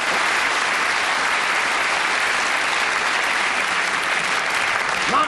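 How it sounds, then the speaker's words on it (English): Steady, sustained applause from a television studio audience for game-show contestants, loud and dense throughout with no talk over it. "Give them a super round of applause."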